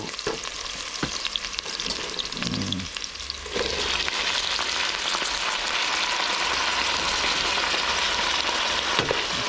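Green beans and carrots fry in a pan with a sauce of Maggi seasoning and pepper, giving a loud, steady sizzle with stirring scrapes throughout.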